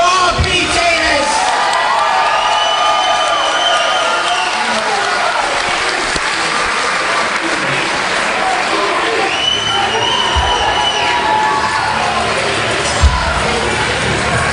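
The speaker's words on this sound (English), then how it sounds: "Let's hear it for RP Davis." A wrestling crowd at a Grand Pro Wrestling show cheers and applauds for a debuting wrestler, with steady loud applause, whoops and shouts sustained throughout.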